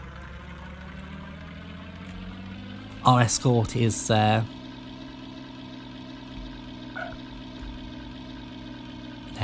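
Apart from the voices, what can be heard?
aircraft engine starting in Amiga video game Knights of the Sky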